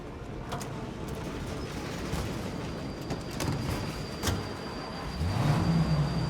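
Car driving in the video game Mafia Definitive Edition: a low, steady engine drone and road rumble at moderate level, with a faint high whine and a louder rising engine note near the end.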